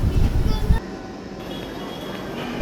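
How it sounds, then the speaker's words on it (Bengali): A metro rail train pulls into a station platform: a heavy low rumble dominates at first, then settles into a quieter steady mechanical drone. "অবশেষে আমাদের ট্রেনটি চলে আসে।"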